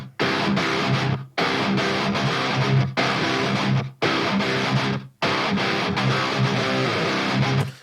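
Bass guitar through tape saturation and heavy distortion, played as thick, gritty chugging riffs in several bursts cut by short silences, loud and up front.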